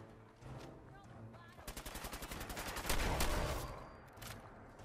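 Gunfire in Fallout 4 at a coast guard pier, with a shotgun in use: a fast run of sharp, evenly spaced shots, then a louder heavy burst that fades, with no talk over it.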